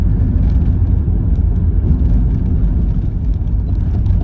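Steady loud low rumble of a car driving in Japan, continuous road and engine noise heard from inside the vehicle, with no speech.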